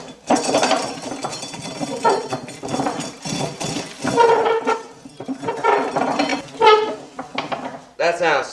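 Hand-cranked corn sheller working a cob, uneven metallic clanking and ratcheting in bursts with short pauses, close by.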